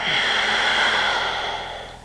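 Forceful nasal exhalation during a kapalabhati breath-of-fire yoga exercise, one long steady breathy rush of air held close and loud for about two seconds before tapering off, with no speech over it.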